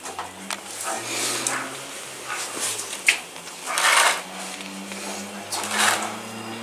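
A two-year-old Great Dane hurt by porcupine quills whimpers and yips in short, uneven bursts, close and moderately loud, with quieter gaps between the cries.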